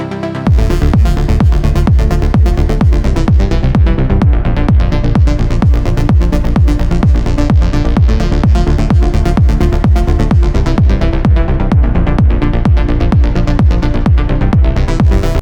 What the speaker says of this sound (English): To create some extra atmosphere, I added this preset that I found again. Together it sounds like this.